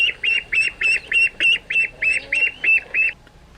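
A toy or recorded duck quacks eleven times in a quick, even rhythm, loud and close, with a faint low hum beneath and no talking.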